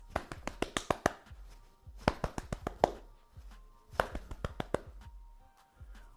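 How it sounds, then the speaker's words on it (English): Oiled hands clapping up and down curly hair, bursts of quick, soft, close pats in three clusters separated by short pauses. "I am just going to do a clapping motion up and down my hair"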